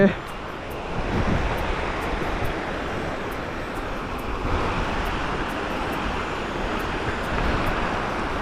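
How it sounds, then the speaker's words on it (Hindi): A mountain waterfall stream on the Kedarnath trek rushes as a loud, broadband roar, steady and close, mixed with gusts of wind buffeting the microphone. "ये देख सकते हैं जी, ये झरना क्रॉस करना पड़ रहा है हमें।"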